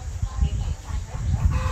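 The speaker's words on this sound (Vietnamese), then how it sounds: "Chốt mấy con gà, dạ chốt đi, kêu ồn quá." Chickens cluck loudly and close by, and a rooster crows among them, at a busy market. The sound is a dense, noisy din in which the calls overlap.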